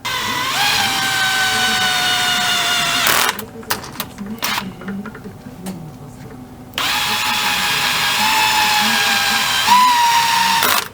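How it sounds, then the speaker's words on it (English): Old gasket being trimmed on a Yamaha YZ500 two-stroke engine during a build: a loud, steady high motor whine runs for a few seconds, drops out to scattered clicks and scraping, then starts up again and holds to the end. "Trimming the old gasket."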